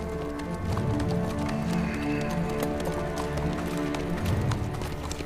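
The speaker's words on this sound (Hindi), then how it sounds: "रुक जाओ, सिपाहियों घोड़े लाओ यहाँ।" Several horses' hooves clip-clop steadily and close by in a medieval Ottoman-era drama setting, a busy continuous trotting rhythm at even loudness with no voices over it.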